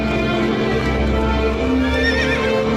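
Several horses with riders move inside a palace, with hooves clip-clopping steadily and a horse whinnying, loud and close, layered over a dense background din.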